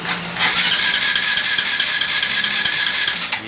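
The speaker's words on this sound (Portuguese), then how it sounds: "Agora vamos dar partida na motocicleta," Honda Biz 125 ES motorcycle from 2009, with a fault so it will not start, its electric starter cranking in one sustained, rattling whine that cuts off without the engine catching.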